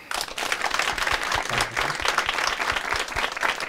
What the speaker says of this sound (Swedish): Jag tycker vi ger Magnus en applåd.